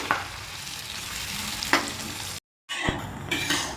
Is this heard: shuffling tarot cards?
no